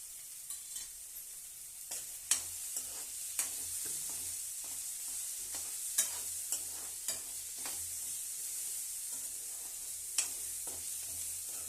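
Vegetable poha (avalakki) fries and is stirred in a pan, a steady soft sizzle broken by sharp scrapes and taps of the spoon against the pan at irregular intervals, close up with no voices.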